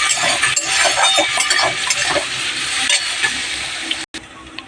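Cut eggplant pieces dropped into hot oil in a pan, a loud, dense sizzle with stirring and metal clinks throughout, ending in a brief drop-out, no one speaking.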